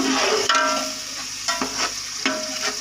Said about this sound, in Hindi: इसको अच्छी तरह हमने भून लेना है ताकि जो लहसुन की स्मेल है वो ख़त्म हो जाए